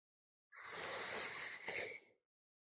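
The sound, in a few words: yawning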